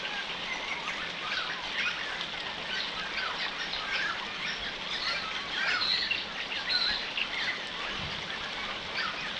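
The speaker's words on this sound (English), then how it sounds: "I'm sitting in a stream surrounded by insects and birds." Birds chirp and call steadily around a stream in Western Australia, a dense layer of tweets mixed with faint insect buzz and soft water murmur throughout.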